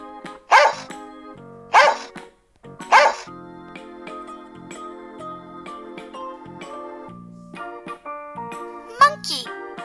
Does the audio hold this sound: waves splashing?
no